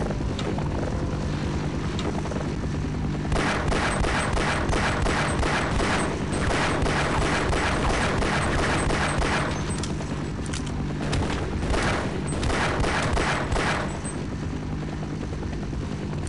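Continuous heavy gunfire and explosions in the Half-Life video game, dense rapid bursts of shots over a constant roaring mechanical drone, loud and sustained throughout.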